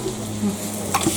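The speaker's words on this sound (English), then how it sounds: "We're going to saute that off for a couple of minutes until it's nice and fragrant" Pounded aromatics sautéing in a pan outdoors, a soft steady sizzle with a few light stirring scrapes and clicks, close and fairly quiet.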